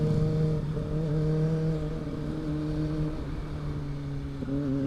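Car engine revving as it accelerates, a close, steady drone whose pitch climbs in stepped rises with a few gear-change drops, continuous for several seconds without speech.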